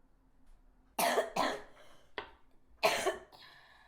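Three or four sharp coughs in quick bursts, close and fairly loud, with a short pause before the last one in an otherwise quiet room.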